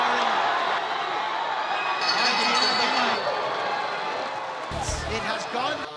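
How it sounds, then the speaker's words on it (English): Dense arena crowd roar at a professional boxing match between Carl Jammes Martin and Aran Dipaen, a steady loud wash of voices swelling and cheering throughout, with a commentator talking over it. "Crowd is roaring."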